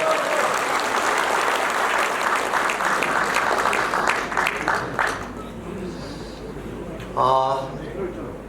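A hall full of party members at a political education meeting applauds the arriving committee chairman with dense clapping that thins out after about five seconds, followed by a brief burst of talk.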